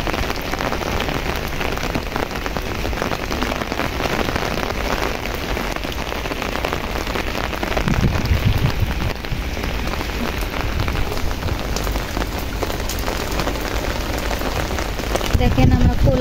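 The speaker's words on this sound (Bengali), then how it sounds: "দেখেন বৃষ্টি চারপাশে বৃষ্টি হচ্ছে" Heavy rain falls all around a house and its vegetable garden, a loud, continuous roar of drops on surfaces with a couple of dull thumps partway through.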